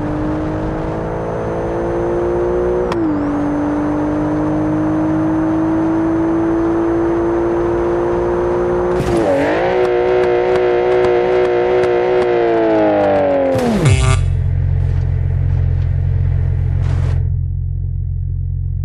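A Porsche 911 Carrera in BeamNG Drive drones at steady high revs, briefly dipping and then climbing as it shifts, before its engine note drops abruptly to a low idle rumble near the end.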